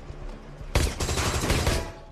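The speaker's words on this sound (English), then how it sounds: "Is that gunfire?" Rapid automatic gunfire in a S.W.A.T. police drama scene, a sudden loud close burst of repeated shots starting abruptly and continuing to the end.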